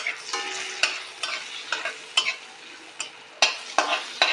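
Whole cinnamon, cloves, black peppercorns and cardamom fry in oil in a pan with a soft steady sizzle, broken by repeated sharp clicks and scrapes of stirring. The sound is close and moderately quiet, with no talking.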